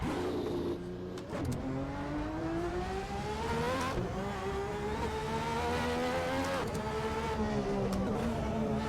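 A V12 engine revs hard in the Assetto Corsa racing game, its raspy, rising harmonic tone climbing and dropping through repeated gear shifts. The note stays loud and continuous throughout, with a brief bump partway through.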